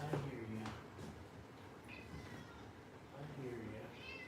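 A cat meows a few times indoors, brief and fairly faint, set against a muffled background hum and low room noise, with a voice heard faintly.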